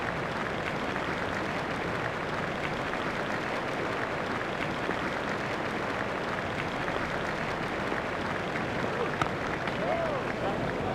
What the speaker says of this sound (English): The crowd are standing to applaud him.